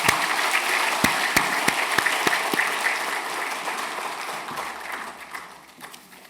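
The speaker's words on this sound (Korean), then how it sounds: "박수로 격려하고 축복하겠습니다" A church congregation applauds after a prayer during a Sunday service, with loud, dense clapping and a few sharp individual claps at first, then the applause fades gradually.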